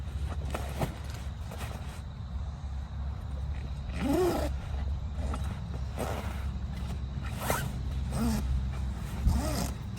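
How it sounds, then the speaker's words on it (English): A YKK zipper on a canvas swag is worked open and shut in a series of quick, close zipping strokes spread across the clip, with quiet handling noise between them. "Now this is a YKK zip."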